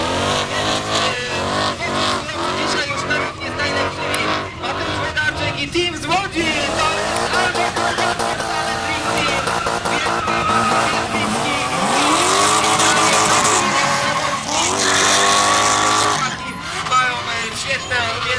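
A loud V8 engine in a BMW drift car roars and revs through a drift at a Lublin drift event, with tires squealing and skidding, fluctuating pitch, and a crowd or commentator's voice underneath.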